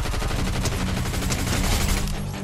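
Gunfire in Fortnite: a rapid, loud burst of automatic shots fired in quick succession, close and sustained across a couple of seconds with no talking over it.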